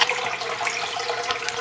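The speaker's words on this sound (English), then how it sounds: "I hear the water coming down" Water runs continuously into a turtle tank, a steady splashing trickle close by with an echoey quality and no voices.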